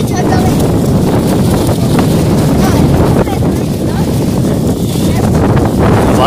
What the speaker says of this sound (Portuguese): Nossa, o vento tá muito forte